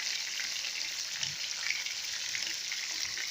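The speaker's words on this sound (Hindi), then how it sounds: "बर्तन छोटा था, इसलिए हम 2 दफ़ा इसको फ्राई करेंगे।" Chicken pieces frying in oil in a small pot while making chicken changezi, a steady soft hiss and crackle that continues evenly, with no voices.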